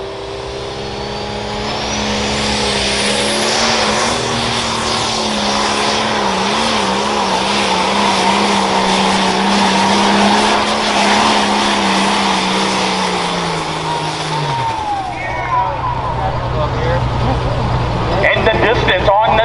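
An International 1066 Light Pro Stock pulling tractor with a 540 cubic inch engine roars loudly down the track at a truck and tractor pull, its pitch wavering under load before dropping off sharply near the end.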